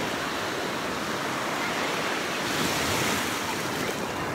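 Waves washing ashore at Kottapatnam beach, a broad, steady roar of surf with constant rushing noise and some wind, loud and close without a break.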